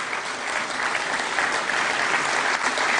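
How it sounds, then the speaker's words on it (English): An audience at a formal awards ceremony in an auditorium applauds steadily, a full and even burst of many hands clapping. "Round of applause, ladies and gentlemen."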